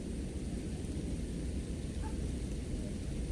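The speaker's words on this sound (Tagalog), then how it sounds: "kalaban ito pagka yung ganyang umaambon-ambon eh" Light drizzle falls outdoors in the Philippines, a dense, even hiss that stays constant with no breaks or voices.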